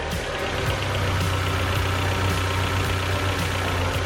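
A Mazda MX-5's engine idles close by with a steady, even rumble and a faint regular knock, holding constant throughout without any voices.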